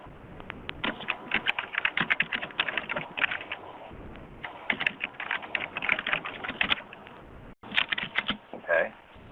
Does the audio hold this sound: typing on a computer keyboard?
yes